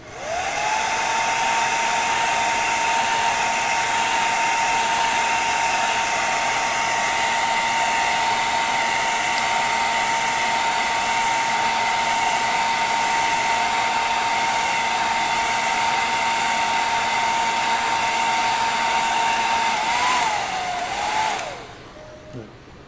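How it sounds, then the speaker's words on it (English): A hair dryer blows steadily for about twenty seconds to speed up glue drying on a feral ghoul mask build, a loud constant whirring hum with a high motor whine that falters and then cuts off. "Let me get a hair dryer. Speed this up a little bit."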